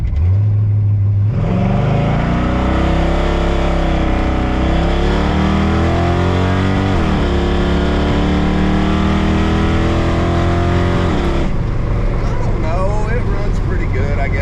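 A V8-swapped Chevrolet S10 pickup accelerates hard, its loud engine roar rising in pitch for about ten seconds before it backs off, with idle rumble at the start.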